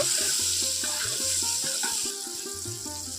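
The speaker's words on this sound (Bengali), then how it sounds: "এটা নাড়াচাড়া করে তেলের মধ্যে ভেজে নেব" Potatoes fry in oil in a pan, a steady sizzle with a constant hiss and a low tonal hum underneath, easing slightly toward the end.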